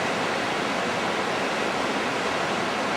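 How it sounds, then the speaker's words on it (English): A waterfall near Seattle, heard from a viewing platform, roars as a steady, even wash of broadband water noise with no talk over it. "Thought we'd take some video of the waterfall from here."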